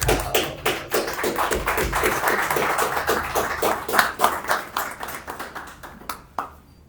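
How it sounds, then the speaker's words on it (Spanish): Audience clapping welcomes Gonzalo Canedo at a school arts event for Instituto Laredo, fairly sparse with distinct individual claps in an uneven rhythm that thins out toward the end. "Vamos a recibirle ahora con un fuerte aplauso"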